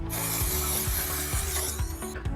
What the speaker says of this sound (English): Just give it a quick spray and then we'll be ready to pour.